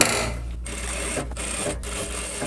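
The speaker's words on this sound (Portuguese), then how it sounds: "eu já vou fazer um pesponto com um pé de sapatilha aqui na largura, para conseguir fixar esse bolso no avesso" A sewing machine runs steadily as it topstitches a pocket onto shorts with a narrow presser foot, a close, even mechanical whir broken by a few brief pauses.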